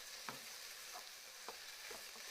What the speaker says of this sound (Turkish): bir soğanı 3 baş sarımsağı ilave ediyorum ve bunları da birlikte kavuruyorum